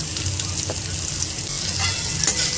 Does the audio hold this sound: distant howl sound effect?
no